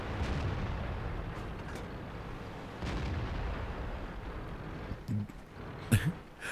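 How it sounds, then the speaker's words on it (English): Artillery fire in the tank battle video game World of Tanks, with muffled low booms and rumbling under a dense battle ambience, followed by a couple of sharper pops near the end. "And now the artillery finally gets a hit."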